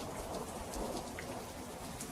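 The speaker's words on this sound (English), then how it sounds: "This is the one with thunder. It's a little bit more hardcore." Looped thunderstorm recording: steady heavy rain hisses on surfaces while low thunder rumbles underneath, dense and continuous with no voices.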